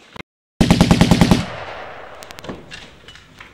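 A staged machine gun burst in a school staff film hammers out about eight rapid, loud shots. A brief echoing tail follows, then a few scattered clicks and knocks.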